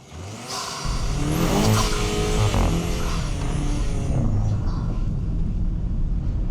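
A Volkswagen Golf GTI MK8 pulls hard on a snowy road, the engine revving up loudly with a rising whine and tyre noise, then settling into a steady drone; no talking.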